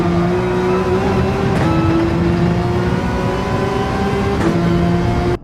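Race car engine in Gran Turismo 7 at Brands Hatch, droning loud and steady at high revs with brief shifts around 1.5 and 4.5 seconds, continuous through the whole stretch.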